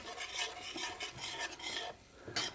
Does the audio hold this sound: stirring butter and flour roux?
yes